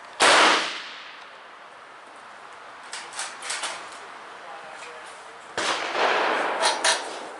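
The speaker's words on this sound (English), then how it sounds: "we're going to try 5 more shots to see how that works" Two loud, sharp .44 Special revolver shots with 262-grain lead bullets fire several seconds apart at an outdoor range, each with a short ringing decay, and fainter clatter comes between them.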